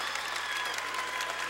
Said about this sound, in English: Get a standing O from the crowd.